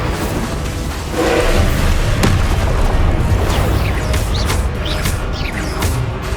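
Incendio fire spell cast in Hogwarts Legacy, a loud roaring burst of flame with booming impacts and crackling, dense and continuous throughout.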